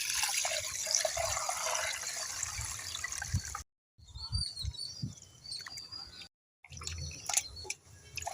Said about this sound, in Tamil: அதுக்கப்புறம் கரைச்சி வச்சுக்கிற புளி தண்ணியை ஊற்றிக்கலாம்.